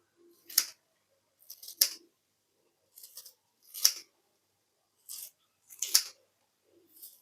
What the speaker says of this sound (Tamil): இப்போ கழுவி க்ளீன் பண்ணி வச்சா கருவேப்பிலை கொத்தமல்லி கட் பண்ணி போட போகிறோம்.